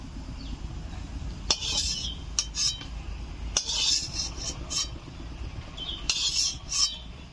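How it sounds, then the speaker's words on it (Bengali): Scattered metallic clinks and scrapes as a spatula lifts gram-flour fritters from a wok of mustard oil, over a low steady background hum. "এই বড়াগুলো ভেজে নেওয়া হয়ে গেছে, এখন তুলে নেব।"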